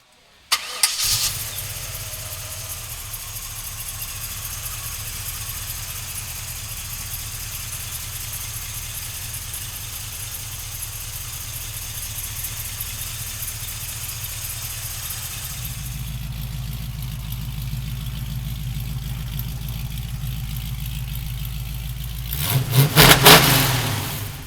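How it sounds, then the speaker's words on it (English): A 1980 Chevrolet Camaro engine cranks and fires up, settles into a steady idle for a long stretch, then revs up loudly near the end, heard close with no talking. "So come on up and we'll fire it up for you now."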